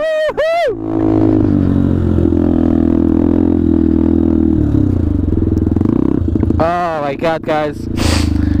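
Benelli TNT 125 motorcycle engine held at a steady drone through a wheelie, loud and close throughout, with someone talking excitedly over it at the start and end.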